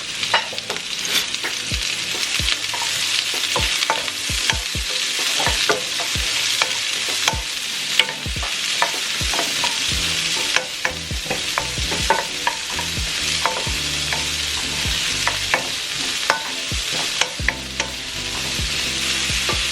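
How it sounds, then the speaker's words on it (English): Onion and half a shallot sizzle steadily in a pan, with frequent clacking stirs and scrapes of a utensil against the pan punctuating a constant frying hiss, close up with no talking. "I'm gonna start by sauteing one onion, and this is just a half of a shallot"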